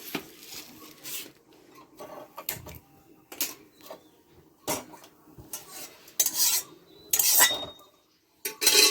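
A metal wok is set on the stove during preparation of oil-free pepper chicken, giving a series of irregular clanks, scrapes and clatters of cookware, close and fairly loud with short quiet gaps between them.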